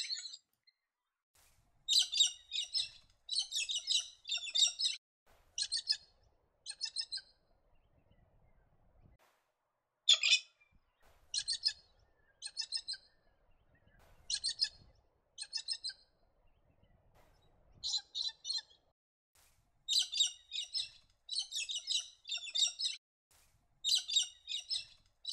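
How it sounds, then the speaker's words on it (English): Galahs, common Australian cockatoos, give repeated harsh, high screeching calls in short bursts separated by brief silences, fairly close and clear against a quiet background. "The galah is one of the most common birds of the region."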